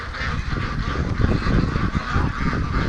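Free-range ducks call in a dense, continuous chorus of loud honking quacks, many birds overlapping close by without pause.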